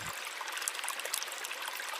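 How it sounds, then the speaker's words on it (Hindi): Cartoon water poured from a bottle onto a tree, a steady soft trickling stream running continuously and alone, moderately faint and close. "अगले रोज़ सोनू चिड़िया पानी की एक बोतल ले आई थी और वो दरख्त को पानी देना शुरू कर देती है।"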